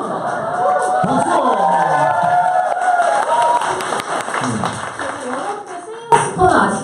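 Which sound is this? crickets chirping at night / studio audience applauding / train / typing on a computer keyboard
studio audience applauding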